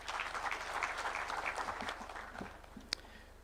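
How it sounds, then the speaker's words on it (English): Audience applause at a Katiba Day symposium at KICC in Kenya, steady clapping from a large crowd that holds for a few seconds and slowly thins, with one sharp knock near the end. "Please, let's clap for that."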